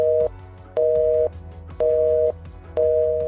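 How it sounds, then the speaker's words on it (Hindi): A telephone busy tone after the line is cut off: four loud, evenly spaced beeps in a steady on-off rhythm, clear and alone. "इतना बोलते ही टेलीफोन का लाइन कट जाता है।"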